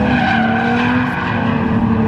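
Drifting car holding a long slide with a steady engine drone and a continuous tire squeal, loud and close, running the whole moment without a break.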